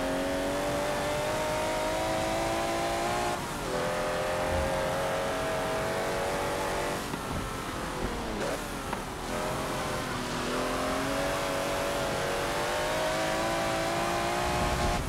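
Ferrari 375 race car in Forza Motorsport 7, its engine droning steadily and loudly with shifting revs throughout, a car struggling for rear-axle grip while racing another Ferrari, with no talk over it.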